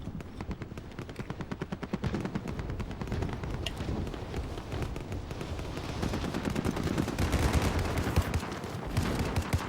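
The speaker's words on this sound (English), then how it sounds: "Why are you shooting at me?" Rapid automatic gunfire and bursts of shots from an online multiplayer video game, continuous and dense throughout, growing a little louder toward the end.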